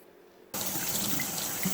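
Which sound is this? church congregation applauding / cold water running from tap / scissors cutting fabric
cold water running from tap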